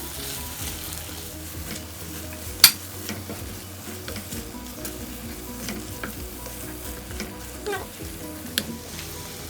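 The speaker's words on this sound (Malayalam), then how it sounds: "ആവശ്യത്തിന് ഉപ്പും കൂടി ചേർത്ത ശേഷം ഒന്നും കൂടി ഒന്ന് മിക്സ് ചെയ്തെടുത്ത് ചേർക്കാം" Prawn masala mixture for chemmeen unda being stirred in a pan after salt goes in, a steady low sizzle with soft scraping strokes and one sharp utensil clink, continuous and close with no talking.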